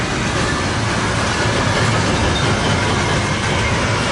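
A freight train rolls past close by in Ashland, Nebraska, a loud, continuous rumbling roar of wheels and cars with a faint clickety-clack running throughout.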